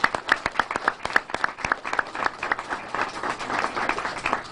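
A crowd applauding, a dense patter of many hands clapping at once, steady and fairly close, without any voices.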